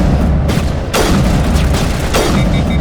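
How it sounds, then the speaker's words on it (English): Sniper rifle fired at close range in the Mass Effect video game: several loud, sharp shots with booming tails stand out over continuous game noise, spaced roughly every second. "Are we using my sniper rifle at close range? Yes, I am."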